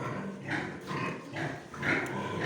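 Weaned piglets on a farm grunt in a close, continuous chorus of low snorts and short grunts, several animals overlapping at a steady rhythm.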